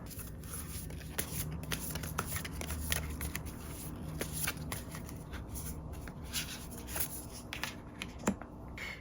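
Tarot cards being shuffled and drawn by hand, giving a steady run of soft papery riffles and sharp flicks and snaps across the whole stretch, close up with no talking.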